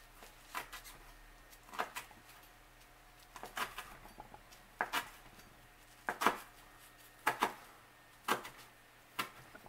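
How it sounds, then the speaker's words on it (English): A knife chops through stacked basil leaves on a board, giving quiet, crisp clusters of cutting strokes in short rhythmic bursts separated by pauses, close and soft against a faint background hum. "if you stack up a few leaves, and then go across them all together with your knife"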